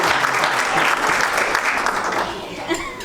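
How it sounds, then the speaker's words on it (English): Wedding guests at a Greek wedding give Barbie a round of applause, a dense, steady wash of clapping from many hands that fills the room, with some voices mixed in and a slight easing toward the end. "So everybody give Barbie a round of applause."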